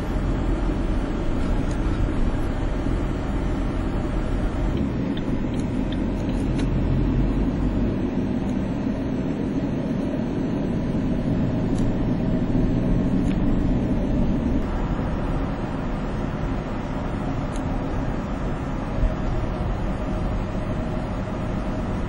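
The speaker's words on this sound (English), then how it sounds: "So many big trucks." Steady, dense highway traffic roar with many big trucks on a Ho Chi Minh City highway, a continuous low rumble of heavy engines and tyres that stays loud and even throughout, with no talking.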